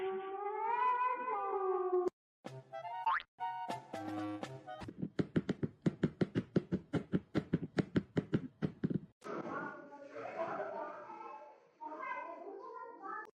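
A kitten meows in drawn-out, plaintive cries, broken by a stretch of rapid tapping or clattering, then more meowing close by.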